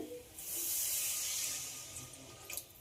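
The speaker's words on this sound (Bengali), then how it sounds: "এবার এতে দিয়ে দেব জল।" Water splashes into a pan of potatoes cooked down with spices, a brief steady pour with a hissing rush that swells and then fades over a couple of seconds.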